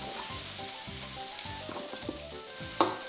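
Bacon, onions and carrots frying in a pan, a steady close sizzle with light stirring scrapes and one sharper clatter near the end, no voices over it.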